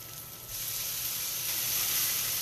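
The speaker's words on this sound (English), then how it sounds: "Oh yeah, it's sizzling." Shrimp fried rice sizzles in a hot pan with a steady, crackling hiss that swells slightly after half a second, close and moderately quiet, with no voices.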